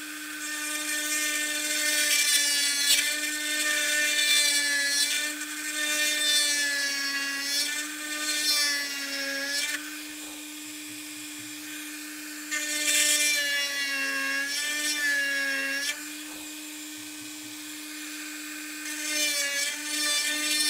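A small drill bores into a knot in yew wood for a longbow, a loud high-pitched whine in long steady bursts that rise and fall in pitch, with short pauses between runs.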